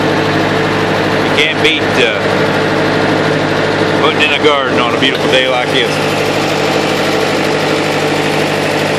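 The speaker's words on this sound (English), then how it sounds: "Probably can't hear me too much with the roar of the tractor." A tractor engine roars steadily at close range while a garden is planted on a sunny day, a constant low rumble running the whole time with someone talking over it.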